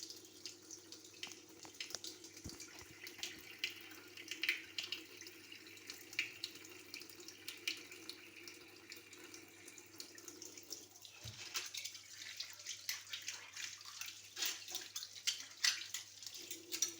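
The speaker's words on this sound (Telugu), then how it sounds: "గిన్నెలు అనేవి నేను రోజులో ఒక్కసారి మాత్రమే క్లీన్ చేసుకుంటాను" Dishes rinsed under a steady running kitchen tap, a continuous close stream of water with scattered clinks and splashes throughout, no talking.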